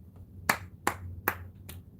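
Four sharp hand claps at a steady, slightly slow rhythm, close and fairly quiet, over a low background hum.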